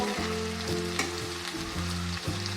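Chicken steak sizzles and fries to golden brown in a pan, a loud, steady crackling hiss with no talk over it.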